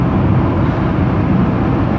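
Loud, continuous tire roar from cars driving along a road is heard from inside a moving vehicle, a dense and steady broadband rush with no breaks.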